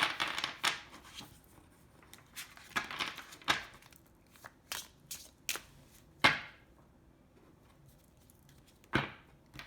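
An oracle card deck is handled and shuffled close up: scattered soft crinkles, taps and papery swishes in irregular bursts, with a few sharper sliding flicks standing out against near silence.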